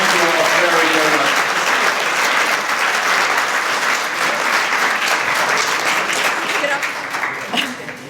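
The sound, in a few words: audience applause for summit panel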